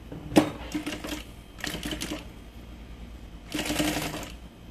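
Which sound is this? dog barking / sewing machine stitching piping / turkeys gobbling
sewing machine stitching piping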